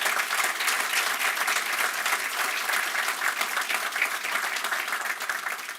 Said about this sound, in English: Please join me in giving a round of applause here for this fantastic panel.